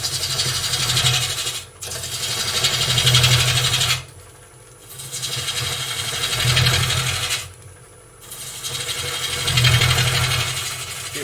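Wood lathe turning as a gouge cuts away waste wood, a steady rasping, scraping drone in three long passes, each broken by a brief quieter gap where the tool lifts off.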